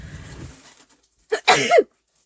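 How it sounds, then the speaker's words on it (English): A single person's sneeze, close and loud, with a short breathy intake followed by the sharp burst, after a brief quiet pause. "Oh, sneeze."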